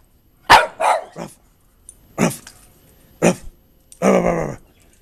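A dog barks close by in five separate bursts, some in quick doubles, with short pauses of quiet between them.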